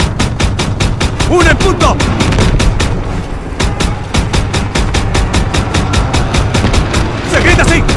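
Rapid, loud automatic gunfire crackles in Call of Duty WW2, a fast regular burst of shots with a short pause midway, while soldiers shout over the firing.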